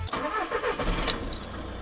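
A car in a French garage being started after repair, the engine cranking and catching, then settling into a steady close idle with no voices over it.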